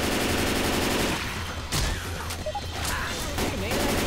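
Rapid gunfire in Left 4 Dead 2, a dense burst of shots at the start that thins into scattered bangs and impacts, with voices shouting over the action.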